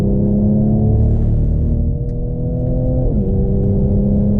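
A 2018 Mercedes-AMG C43, Malaysian CKD build, accelerating on Sepang Circuit, its engine drone loud and steady from inside the car, pitch climbing gradually and then dropping briefly at a gear change before it pulls on again.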